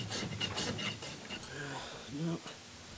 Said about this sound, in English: Roy uses a rasp to make the hoof smooth so the shoe can be nailed to a flat surface.